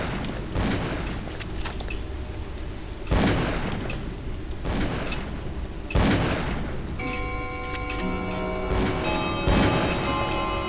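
Gunfire in the horror game Call of Cthulhu: Dark Corners of the Earth, a few loud, widely spaced shots, each with a booming tail, and then a ringing tone near the end.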